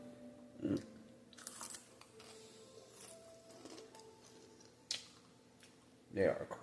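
Crunchy beer-battered fried crab being bitten and chewed, with a few loud crisp crunches spaced apart among quieter chewing and soft room noise, close to the microphone.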